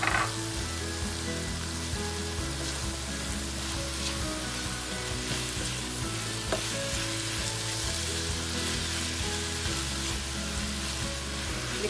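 Green onion and bean sprouts stir-fried for chicken chow mein, a steady loud sizzle with rhythmic scraping and tossing strokes running throughout, no talking.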